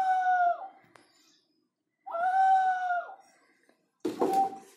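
An owl-shaped ceramic water whistling vessel gives two clear, hooting whistles with a quick warbling slide at each end, separated by a pause, followed by a short rougher burst of sound.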